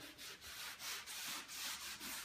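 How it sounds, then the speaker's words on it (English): Floor buffer working stain into a wood floor, a rhythmic swishing rub that swells and fades about every half second, moderately close with no talk. "when I'm buffing"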